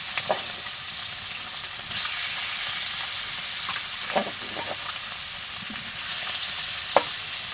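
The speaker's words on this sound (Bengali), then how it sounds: "তেলটা গরম হয়ে গেছে, এখন আমি মাছটা ছেড়ে দেবো একে একে।" Fish pieces slid one by one into hot oil, giving a steady, close sizzle with scattered crackles and a few sharper pops, with no voices.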